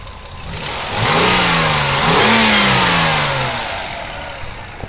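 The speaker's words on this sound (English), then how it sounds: "the famous 3-liter 24-valve V6. Moves this thing along quite nicely" A 2004 Toyota Avalon's 3-liter 24-valve V6 revs up from idle in two rising pulls, its pitch climbing and falling, loud and close with no talking.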